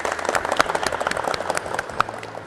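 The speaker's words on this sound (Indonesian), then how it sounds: "Tepuk tangan untuk anak-anak." Classroom applause at a vocational automotive high school, students clapping together in a dense, uneven patter of close and distant hand claps for a few seconds.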